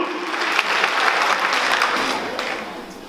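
An audience at a comedy show claps and cheers in a burst of applause that fades slightly toward the end, with no talking.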